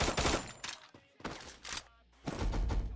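Free Fire battle royale gunfire comes in three loud bursts of rapid automatic shots, close and punchy, separated by short quiet gaps, with no voices over it.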